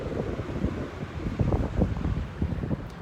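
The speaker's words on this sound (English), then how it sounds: "sorry if you hear the wind, if the breeze" Wind buffets the microphone beside Sand Creek in a city, a constant low rumbling gusty roar with soft fluttering thumps, fairly quiet and with no other sounds standing out.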